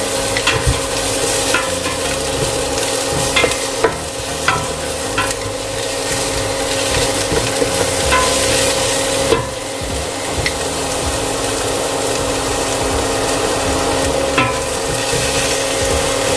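Onions sautéing in a pan for bulalo, a steady loud sizzle with the scrape and clatter of stirring close by, continuing throughout with no voices.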